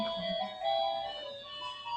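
An ice cream van's bells play a tinkling electronic tune, thin and steady at low volume, heard without any talk over it.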